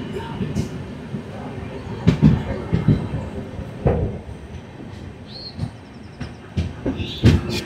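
A passenger train rolls into Jeypore in Odisha, heard from on board with a steady rumble, rhythmic wheel clatter and occasional sharp clanks, while someone speaks over it.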